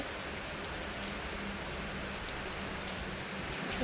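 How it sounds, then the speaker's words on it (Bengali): Heavy rain pours outside, a dense, unbroken wash of hissing patter that holds at a steady level throughout, with no voices or thunder. "বাইরে কি দারুণ বৃষ্টি হচ্ছে"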